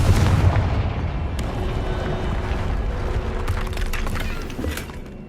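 In the Hogwarts Legacy video game, a Confringo blasting spell breaks a barrier: a deep boom opens, followed by rumbling debris and crackling bursts that fade out.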